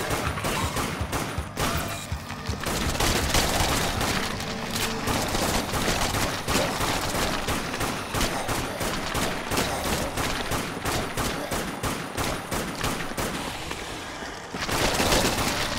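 A rifle fires again and again through a long stretch of heavy in-game combat in the Dead Nation video game, with dense, loud, overlapping shots and only a brief lull near the end.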